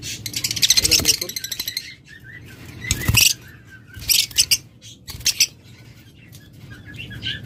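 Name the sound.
lovebirds chirping at a bird farm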